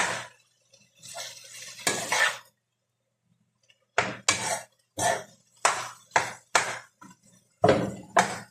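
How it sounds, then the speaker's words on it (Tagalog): Sambosa meat filling being mixed in a bowl, with a series of short, sharp clinks and scrapes against the bowl in quick bursts, quiet and close, separated by a brief pause. "I-mix lang natin siya guys."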